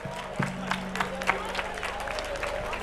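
Scattered audience clapping rises from a large crowd at a Mahashivaratri event in Banaras, uneven and moderately loud over a low steady hum with voices mixed in.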